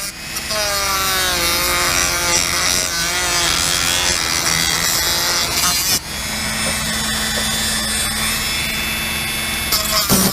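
A flexible RV sewer hose is sawn through near its female end, a close, continuous rasping cut with a short break midway before the sawing resumes.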